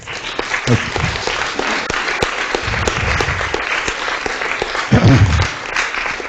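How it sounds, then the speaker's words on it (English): A conference audience at KITP applauds the lead coordinator with steady, sustained clapping throughout, a few murmuring voices mixed in beneath it. "please give her some round of applause"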